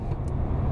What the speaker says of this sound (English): Cars seem to run in packs. I just got passed by a pack.